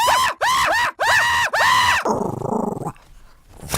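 Several dogs bark in four loud, close, harmonic bursts with short gaps, followed by a noisier rough stretch that trails off into quieter rustling.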